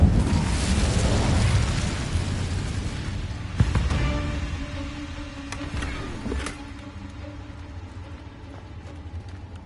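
Roaring burst of flame from the Incendio fire spell in Hogwarts Legacy, a loud, dense whoosh that fades gradually over several seconds, with a few sharp crackling pops along the way.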